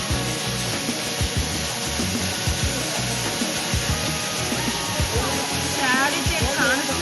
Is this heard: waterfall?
yes